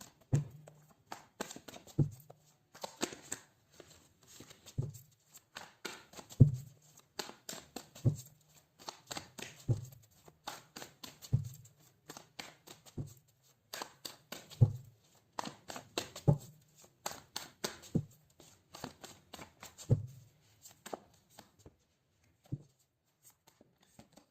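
Tarot cards being shuffled and handled for a love reading, giving repeated soft riffling bursts and light taps at a steady rhythm, close and fairly quiet, with no talking.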